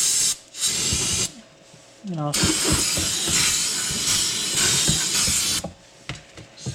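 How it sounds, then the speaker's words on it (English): Several bursts of brake cleaner aerosol spray hiss loudly up close onto a Nissan Maxima 3.5 oil pan, separated by short pauses, with someone briefly speaking. "grab yourself some brake cleaner"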